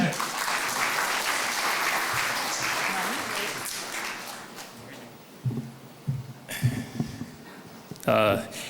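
Audience applause for a keynote speaker at a sustainability forum, a dense wash of clapping that fades out over several seconds before a voice speaks near a microphone.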